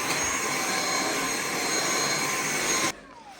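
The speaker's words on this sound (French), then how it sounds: "Je vais chercher l'aspirateur." A household vacuum cleaner runs steadily and loud indoors, a continuous whine with a broad rushing roar, then cuts off abruptly near the end with a brief descending spin-down.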